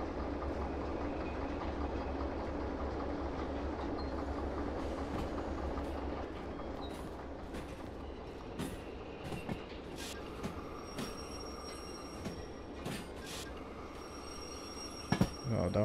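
Freight wagons being shunted and coupled at a steel works in the Derail Valley railway simulator game, steady rumbling rolling noise followed by sharp metallic clanks and couplings in the later part, with no talk.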